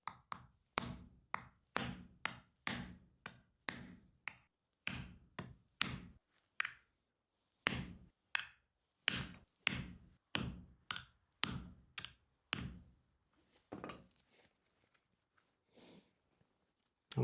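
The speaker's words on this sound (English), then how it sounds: "I'm going to use the swage block and a ball peen hammer to hammer down to get the initial shape of the coffee scoop" A ball peen hammer shapes a copper coffee scoop on a wooden swage block in a steady run of sharp, evenly spaced blows, broken by a short pause and ending in a few softer, scattered taps.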